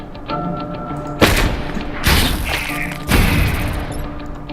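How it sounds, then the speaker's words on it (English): Explosions in the turn-based strategy game Into the Breach land as three heavy booming blasts about a second apart, loud and punchy with rumbling tails over a faint musical hum. "But at least there was an explosion involved."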